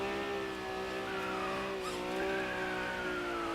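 Tires skidding on an Honda NSX-R in a racing video game, a sustained squeal with shifting pitch layered over the steady engine drone, continuous and close without any voices.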